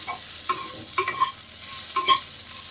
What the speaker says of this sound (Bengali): পেঁয়াজ আর কাঁচা লঙ্কা, দিয়ে একটু নাড়াচাড়া করে নিতে হবে